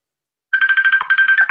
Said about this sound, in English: Like a James Bond phone?